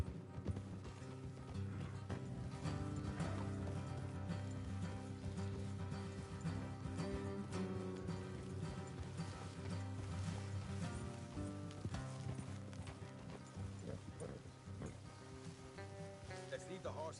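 Horses' hooves clip-clop in a steady trotting rhythm through Red Dead Redemption 2, faint and continuous beneath game music and ambience, with voices briefly present.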